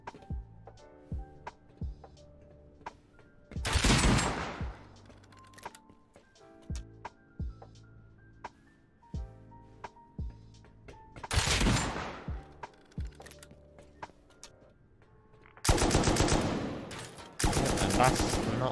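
Heavy M2 machine-gun fire in the Rust survival game, coming in three loud sustained bursts separated by quieter stretches of game ambience and scattered clicks.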